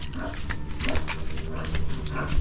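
Pigs grunting in a pen with thin flooring, a steady run of low, close grunts and snuffles that swell louder toward the end.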